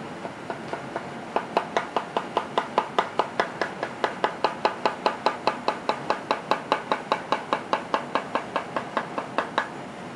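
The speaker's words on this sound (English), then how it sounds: "The chef begins by mincing parboiled bok choy, the Chinese cabbage." A knife minces parboiled bok choy on a cutting board in a rapid, even run of sharp chopping knocks, close and crisp, starting after a few scattered taps and continuing steadily for several seconds.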